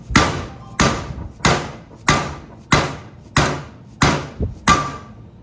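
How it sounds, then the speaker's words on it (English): A hammer driving a wheel bearing into an aluminum hub during a motorcycle wheel bearing install, eight loud, evenly spaced metallic strikes close up, with the ring shifting slightly as the bearing seats. "you heard that tone change because that was the bearing seating against the aluminum"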